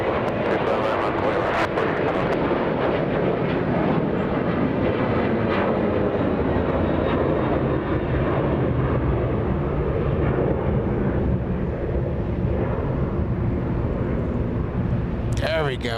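An American Airlines airliner in special livery takes off from runway 25 right at Los Angeles International Airport, a steady broadband engine roar that holds strong throughout, with radio chatter and talk running over it.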